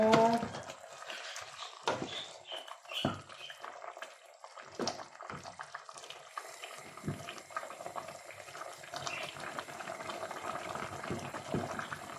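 Potatoes bubble softly as water boils in a pot, with occasional clinks and knocks from the kitchen. The sound is quiet and close.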